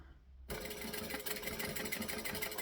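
A domestic sewing machine runs steadily, basting layers of fabric together for a Phoebe bag, starting after a short quiet moment and then whirring continuously and closely.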